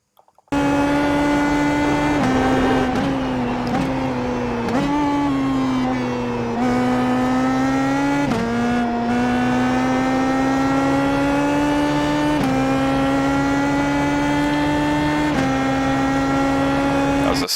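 A PM18 race car at Barber Motorsport Park accelerates hard, its loud, high engine note climbing steadily with several quick upshifts, heard close and continuous from onboard.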